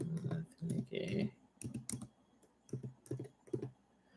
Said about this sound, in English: I'm gonna type with one hand here